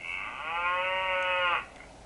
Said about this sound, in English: And then for the cow sound,